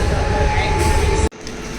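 A train rumbles loudly and steadily close by, with a sharp cut near the end before the heavy rolling noise continues.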